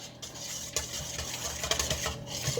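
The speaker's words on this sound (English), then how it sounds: "Stir this up really well." Egg mixture for French toast being stirred in a bowl, a steady scraping and clinking of utensil against the dish with a few sharper taps, close and fairly quiet, with no voices.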